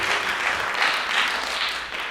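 A stand-up comedy club audience claps and cheers in a dense, steady burst of applause that fills the whole room without letting up.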